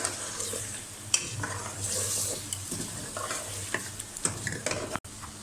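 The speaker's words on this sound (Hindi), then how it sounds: "अदरक लहसुन डाल के थोड़ा भूनेंगे।" Ginger garlic paste sizzles and crackles in hot oil for chicken nihari while a spoon scrapes and stirs it around the pan, with occasional clinks of utensil on metal.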